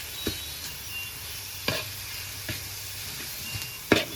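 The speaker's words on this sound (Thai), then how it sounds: "มะพร้าวแล้วก็ใส่เกลือลงไปเล็กน้อยนะครับ ประมาณหนึ่งช้อนชา แล้วก็ผัดรวมให้เข้ากันนะครับ" Grated coconut filling with a little salt is stir-fried in a pan, with faint steady sizzling and a few sharp scrapes and taps of the spatula spaced irregularly, no talking.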